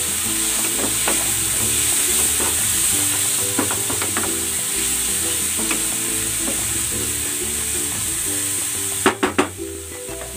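Curry and paprika powder are stirred into a hot frying pan, with a steady loud sizzle and repeated scraping spoon strokes throughout, then a few sharper knocks against the pan near the end.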